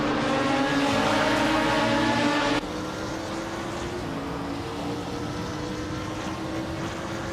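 Race cars roar around a track in a racing video game, a 2016 Opel Astra TCR among them, a loud steady engine drone that drops to a lower, quieter level partway through.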